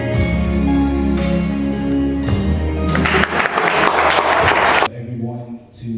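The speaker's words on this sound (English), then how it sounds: "Everyone to just give a quick hand clap." Applause and hand clapping from an audience at a poetry event, a burst of loud clapping swelling over music and then cutting off abruptly near the end.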